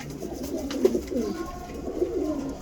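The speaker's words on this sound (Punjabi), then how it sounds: "ਇਹ ਦੇਖੋ ਕਬੂਤਰ" A pigeon coos softly nearby, a few low, throaty rolling calls in a quiet setting.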